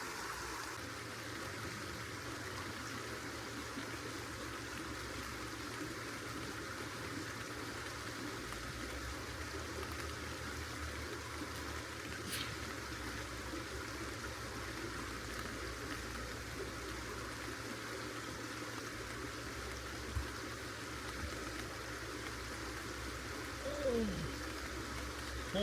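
Shallow water at the Mississippi River headwaters flows steadily in a soft, faint wash, with small splashes near the end as someone wades across.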